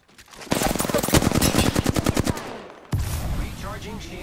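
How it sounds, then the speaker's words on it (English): Rapid automatic gunfire from a video game erupts loud and close in a dense burst of shots, then a second explosive blast of fire follows after a short gap. "I am taking fire, friends."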